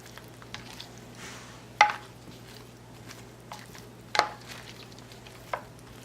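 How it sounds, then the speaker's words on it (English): Stirring broccoli and chicken in a frying pan for sweet and sour chicken: a soft continuous sizzle beneath a few sharp utensil scrapes and knocks against the pan, close and fairly quiet, with no talking. "I'm going to stir it and get all that broccoli coated."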